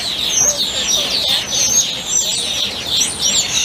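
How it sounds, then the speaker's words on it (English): Baby ducks peep in a steady run of thin, high chirps in an aviary at Animal Kingdom, Walt Disney World, several calls overlapping close by over a low background hum. "Look, there's baby ducks."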